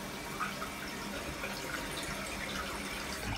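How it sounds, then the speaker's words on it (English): Water pours steadily into a toilet bowl during unclogging, a continuous close rushing and trickling flow with no talk over it. "I just opened up the toilet there to allow more water in"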